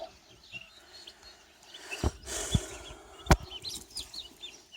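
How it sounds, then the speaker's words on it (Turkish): Turkey chicks chirp and cheep near at hand in a garden, with a few louder thumps and a brief flutter partway through. "Bunlar 3 tane hindiden çıkan civcivler."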